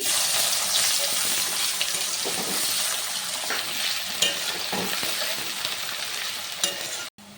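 Chopped onion fries in hot oil with whole cumin, bay leaf, cardamom, cinnamon and cloves, a loud, steady close sizzle with occasional stirring clatter, ending in a sharp knock.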